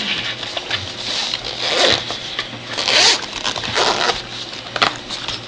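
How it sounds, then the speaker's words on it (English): A zipper is drawn closed on a PSP carrying case, giving close, loud, rasping pulls in several short strokes over about five seconds, with faint handling rustle between them. "Here's the zipper up."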